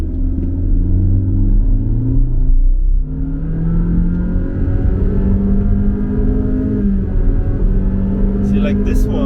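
A Honda BR-V CVT SUV speeds up to overtake, its engine note rising in a loud, near, continuous drone that dips and climbs again as the simulated gears shift, with a driver speaking over it.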